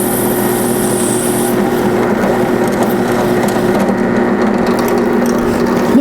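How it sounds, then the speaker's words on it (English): A steady, loud drill press motor whine with grinding and crunching as a bit bores into wood, continuing without a break. "It's gonna drill into the wood anyway."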